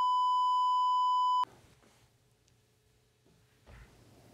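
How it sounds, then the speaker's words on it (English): A single steady electronic beep sounds loudly for about a second and a half, then cuts off to quiet room noise with faint clicks. "It's doing a beep."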